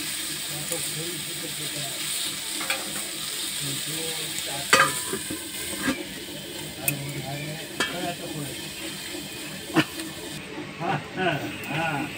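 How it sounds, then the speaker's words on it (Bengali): Raw tomato and potato curry cooks in a covered pan, giving a continuous low sizzle and hiss broken by scattered clicks and knocks of a lid or utensil. "সব কিছু মিশিয়ে আমি টমেটোটা সিদ্ধ হতে দেবো, ঢেকে রেখে দেবো।"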